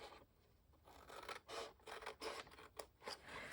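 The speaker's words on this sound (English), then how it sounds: "And I'm going to cut this one off also." Scissors cut through paper or card while a gift bag box is made, a string of close, crisp snipping and rasping strokes in bursts, with a brief spoken phrase at the start.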